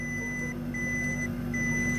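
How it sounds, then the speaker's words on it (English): Electronic beeping from a booth in a game scene, steady repeating tones cycling on and off over a low continuous hum and background music. "Wait, what's that beeping coming from the booth over there?"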